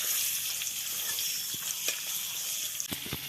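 Oil heats and sizzles in a kadai, a soft, steady frying hiss at low level with a few faint clinks and stirring taps scattered through it, no voices.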